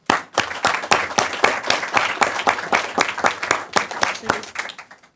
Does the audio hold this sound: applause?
yes